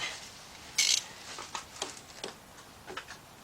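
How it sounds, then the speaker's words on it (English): A 3/8-inch drive ratchet on a 4-inch extension tightens a 13mm bolt during timing chain and oil pan work on a Chevy Cobalt. One sharp close burst is followed by quieter, irregular clicking strokes, with no talk. "We're going to tighten up that one last bolt right there, the 13mm."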